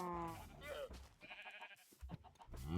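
Sheep bleating in the Minecraft video game, wavering calls repeated a few times, heard close and mixed in with a person talking.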